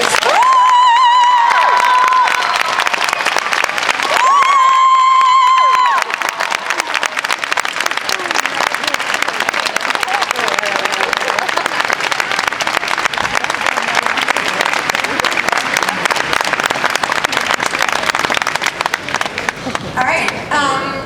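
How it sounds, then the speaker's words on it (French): A large audience at Comic Con Paris 2015 bursts into loud, sustained applause and cheering for actor James Marsters, with whistles, a continuous wall of clapping from start to finish. "Je vous demande de faire un tonnerre d'applaudissements à James Marsters"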